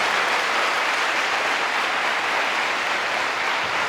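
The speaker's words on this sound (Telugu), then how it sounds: "చప్పట్లు కొట్టండి గట్టిగా" An audience at a motivational speech claps loudly and continuously, a dense, even roar of many hands with no break and no voices over it.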